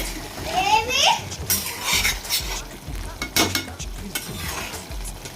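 A spoon stirs and scrapes through a simmering small-fish curry in a pot, close wet scraping and soft sizzling in uneven strokes, with a faint voice in the background.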